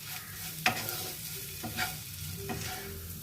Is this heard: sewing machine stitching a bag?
no